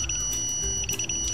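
Electronic beeps from a keypad security alarm system running in an emulator, rapid pulsing tones in short groups over a steady high whine, fairly close with no talking.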